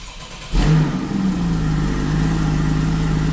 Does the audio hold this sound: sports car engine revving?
yes